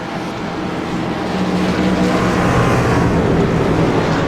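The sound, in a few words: race cars coming around the track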